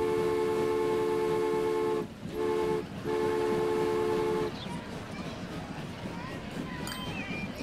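A train in the Transport Fever sim game sounds a long, steady horn blast. The horn breaks off twice, carries on, and gives way to rumbling rail noise with faint clatter.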